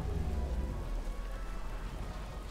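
A freezing rain spell in the Battle for Middle Earth strategy game gives off a dense, even downpour hiss with a low rumbling base, loud and continuous throughout.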